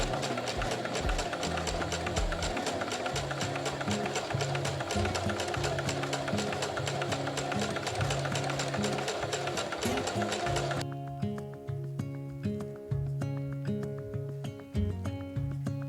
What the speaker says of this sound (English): first with a straight stitch, and then, since this fabric frays like crazy, I finish the edge with a zigzag stitch